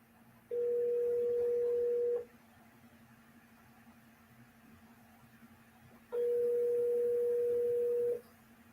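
Two long steady telephone tones, each about two seconds, separated by a pause over a quiet background hum, like a ringback or dial tone on a phone call.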